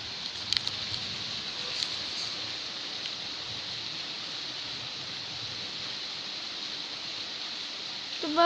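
Steady rain falling outside, a constant soft hiss throughout with no distinct drops standing out, ending in a brief louder sound at the very end.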